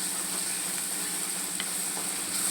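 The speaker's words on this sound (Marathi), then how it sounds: "बटाट्याला पण थोडं चांगलं परतून घ्यायचं आहे" Potatoes sautéing in oil in a pan for palak aloo, a dense continuous sizzle with a faint stirring scrape, close and alone.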